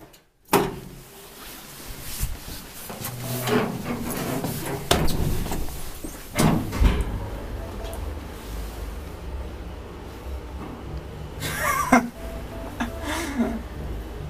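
An old Kone traction elevator in an apartment building: doors slide and thud with a few knocks and clunks, followed by a low, steady hum of the ride, with brief speech from people inside.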